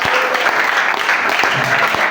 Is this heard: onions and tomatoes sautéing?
no